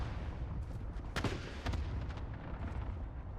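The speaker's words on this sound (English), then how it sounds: "oh, it's airstrikes" Airstrike explosions in the video game Warzone land as a couple of heavy, booming bursts over a constant rumbling battlefield din, sounding somewhat distant.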